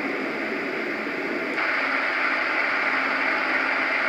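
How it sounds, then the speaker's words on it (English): Resembling a pedestal or desk fan, this Roffie N600 white noise machine setting gives a constant airy whoosh that turns brighter and slightly louder after a switch partway through, steady and close with no speech. "Now that sounds like a pedestal fan or a desk fan, that one."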